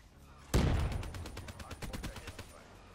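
A single loud shot from a gun in Black Ops 3 kicks off a rapid burst of automatic gunfire, a fast rhythmic rattle of shots that tapers off over a couple of seconds.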